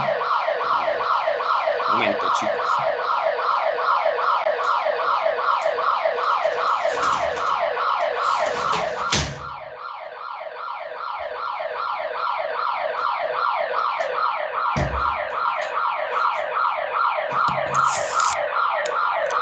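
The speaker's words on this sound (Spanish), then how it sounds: "Que tengo un vecino que activa su alarma." A neighbor's alarm blares continuously in a loud, rapid warbling siren pattern that barely dips throughout, while a person briefly speaks over it.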